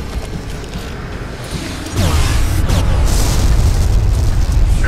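In Mass Effect 2, a Thresher Maw bursts out of the ground with a sudden deep boom, after which a heavy rumbling roar, creaking sweeps and debris hiss build and fill the rest of the clip, loud and close.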